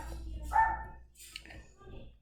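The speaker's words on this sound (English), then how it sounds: "If you guys hear that, that's my dog" A dog barks indoors a few times in the background, sharp and moderately loud, with people talking around it.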